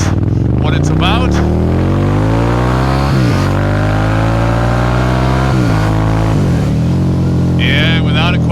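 A Harley-Davidson motorcycle, one of a Street Glide, Fat Boy S and V-Rod trio, revs loud and close, its engine note climbing through several rising sweeps as the bike accelerates hard, with brief gear-change dips between pulls.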